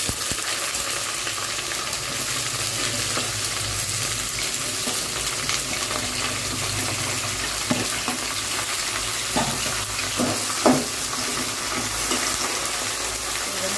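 Black urad dal and perandai sautéing in oil in a pan, with continuous loud sizzling and occasional spoon clinks and scrapes against the pan, no talking.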